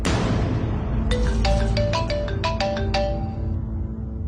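A phone ringtone plays a bright electronic melody of quick, repeated tones. It rises out of a low, rumbling background and rings loudly for a few seconds before fading.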